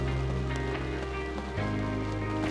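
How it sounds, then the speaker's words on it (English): Rain falls steadily through the woods during a whitetail deer hunt, a continuous even patter on leaves and branches, close and fairly loud, with no talking. "Look at the rain coming down on him."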